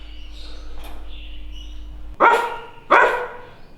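A newly bought dog barks twice at close range, two loud, sharp woofs about a second apart, after a stretch of quiet room tone with a low hum and no speech.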